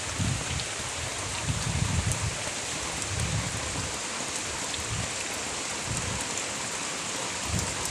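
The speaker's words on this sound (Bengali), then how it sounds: "তাই বন্ধুরা দেখো যখন বৃষ্টি হচ্ছে, প্রচণ্ড বৃষ্টি হচ্ছে" Heavy morning rain pours steadily as a dense, continuous wash of noise, with low rumbling swells surfacing every second or so beneath the downpour.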